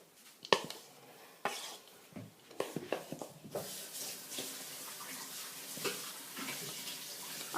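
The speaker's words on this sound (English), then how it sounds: "You would stir it until they're smooth." A spoon stirs nuts and flour into a dough for goodey balls in a bowl, with quiet irregular scrapes and clinks over a faint background hiss.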